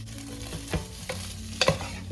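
Pork pieces for sinigang sweat in a pot, giving a soft steady sizzle with a few clinks and scrapes of stirring near the end, close and moderately quiet.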